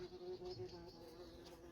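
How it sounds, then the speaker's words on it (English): A wasp that has flown in through a door buzzes steadily at close range indoors, a faint, continuous insect drone with slight wavering pitch. "There's a wasp come in."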